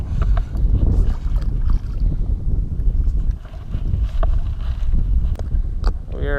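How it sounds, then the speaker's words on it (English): Wind gusts steadily across open saltwater while fishing from a small boat, a loud buffeting rush on the microphone with light knocks and splashes beneath it. "the wind's picked up pretty much out of nowhere"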